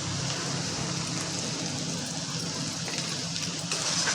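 Chopped onion and tomato sauté in a pan over a high flame, a dense, even hiss of frying heard close up and unbroken, with no voices.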